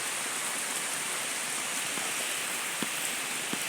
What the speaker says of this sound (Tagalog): Lumalakas ang ulan sa bubong ng saging.